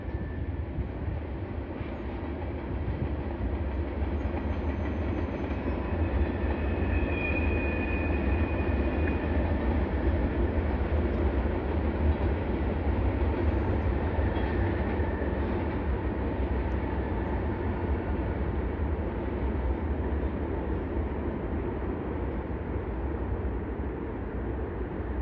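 A long Norfolk Southern freight train rolls past nearby across the Ohio River, with a steady heavy rumble and faint rail squeals, sustained throughout.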